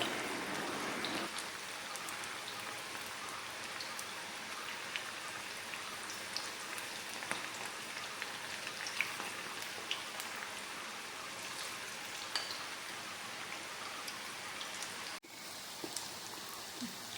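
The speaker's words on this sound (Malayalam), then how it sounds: "നമ്മളിങ്ങനെ എല്ലാം വറുത്ത് കോരിയെടുക്കാം കേട്ടോ" Homemade dog food snacks deep-fry in oil, a long steady hiss of sizzling with scattered crackles, fairly quiet and continuous, briefly dipping near the end.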